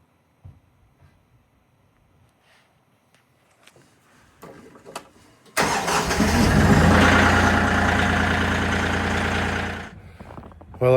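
A Kioti CK3520 compact diesel tractor cranks and fires up on a cold morning around 17 degrees, starting abruptly after quiet clicks and shuffling, then running loud and close with a steady rough idle before cutting back.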